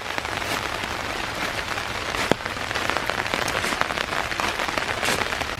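Steady rain falls through the woods of Iroquois Park on a dark, foggy December morning, a dense close patter of drops on leaves and ground with scattered sharper taps, continuous and even with no voices.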